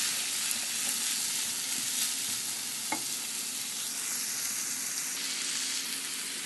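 Ground pork stir-frying in a pan for steamed rice rolls, a steady broadband sizzle with soft stirring scrapes, close and continuous with no talk.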